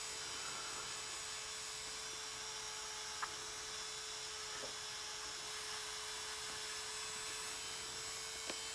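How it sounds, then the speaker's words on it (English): A rotary tool fitted with a wire brush attachment spins at slow speed while cleaning a small road roller model, producing a steady high whine with a constant tone and brief faint scratches, no voices. "Get yourself a decent little wire brush attachment on the end and nice slow speed and just nice and steady"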